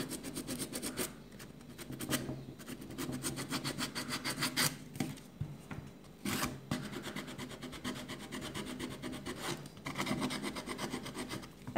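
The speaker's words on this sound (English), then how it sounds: "sand until you will see the edge" Sandpaper rubbing along a masking tape pattern edge on a shoe last, a continuous rasping scrape in quick back-and-forth strokes, close and steady with short pauses.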